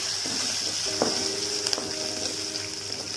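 Onions sizzle and fry in a pan for a potato masala gravy, a constant hissing crackle with occasional stirring scrapes and pops, close and steady with no talk.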